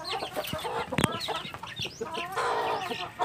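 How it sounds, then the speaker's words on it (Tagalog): Native parawakan chicken hen clucking on a farm, a run of short clucks and calls close by, fairly loud against light background noise. "Ito talaga yung original namin na parawakan na inahin."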